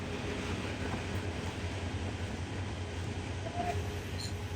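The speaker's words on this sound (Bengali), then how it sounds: "এটি হচ্ছে তিতাস কমিউটার, মূলত একটি লোকাল ট্রেন।" Titas Commuter local train running on the Dhaka to Akhaura line, a steady low rumble of wheels and carriages rolling past at moderate distance, continuous and even with a faint brief squeal near the end.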